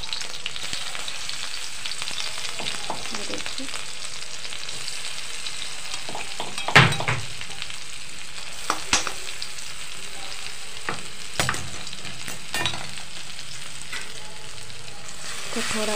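Ginger-garlic paste and chilli frying in a pan for homemade wheat-flour pasta, giving a steady, close, continuous sizzle with a few sharp stirring scrapes and clicks along the way.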